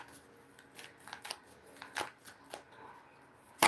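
Tarot cards shuffled by hand to draw a clarifier card: a run of soft riffling and flicking bursts at an uneven pace, close and fairly quiet, ending in one sharp loud snap.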